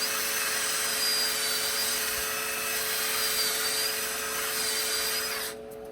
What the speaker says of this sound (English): I'm just going to put a pilot hole to help guide the drill bit.